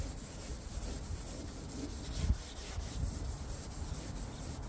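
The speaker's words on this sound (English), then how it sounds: "So I'm sanding it till it feels pretty smooth." The peeling clear-coated paint on a Chevrolet Tracker's hood is hand-sanded. A soft, continuous rubbing scrape repeats in uneven strokes, faint and close, with no voices.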